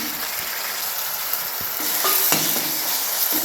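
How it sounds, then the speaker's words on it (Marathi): Tomatoes fry in a pan after browned onion, a loud, close, continuous sizzle broken by scraping stirring strokes that grow slightly busier toward the end. "टोमॅटोला पण आपल्याला छान असं भाजून घ्यायचे।"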